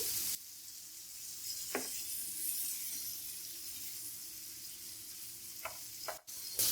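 Tomatoes softening with okra in oil on a flat tawa griddle give a steady, close sizzle throughout, with a few brief sharper spatters and a short stirring scrape near the end.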